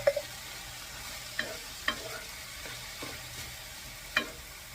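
Home-canned corn, a one-pint jar, being stirred into an enchilada casserole pot, heard as a few scattered soft scrapes and thumps of the spoon against the pot over a quiet background.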